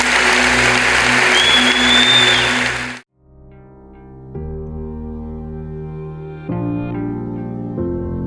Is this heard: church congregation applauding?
yes